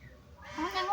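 A cat meows once near the end, a rising drawn-out cry that swells louder over a quieter background, with a bit of speech-like sound mixed in.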